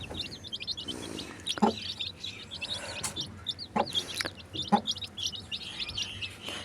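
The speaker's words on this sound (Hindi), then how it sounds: "तो ये हैं हमारे छोटे छोटे से चिक्स और ये हमारी मुर्गी" Aseel hen and her small chicks call together: soft clucks from the hen under a busy stream of high, rapid chick cheeps, with a few sharper louder calls punctuating the near, continuous chatter.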